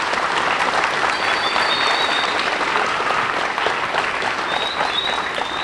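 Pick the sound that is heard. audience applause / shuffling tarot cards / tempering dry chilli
audience applause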